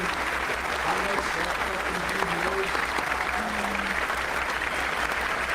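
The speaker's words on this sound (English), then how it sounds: "That is a weird clap, bro." A crowd clapping, steady broadband applause filling the room with voices talking over it throughout.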